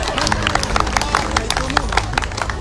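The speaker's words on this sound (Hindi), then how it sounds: "आओ बहनों ताली बजावे, अब बहनों ही बजावे" Women in a crowd at an outdoor BJP election rally in Sidhi clap in quick, loud, continuous bursts of many hands, with a murmur of voices underneath.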